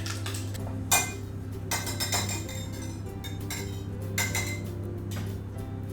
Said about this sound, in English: So now you just whisk everything together.